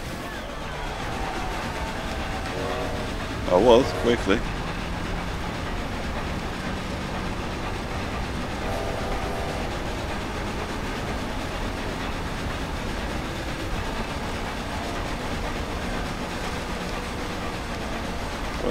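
A train rumbles steadily alongside a racing car in Forza Horizon 2, a continuous rolling drone with a brief louder burst near the start and a few spoken words.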